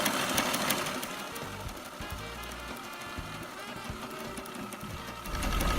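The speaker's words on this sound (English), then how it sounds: "So we got some sail repair tape and Heidi's sewing it up" A ripped sailboat staysail being stitched, likely by sewing machine, with a steady mechanical whirring over a low engine-like rumble throughout, louder at the start and end.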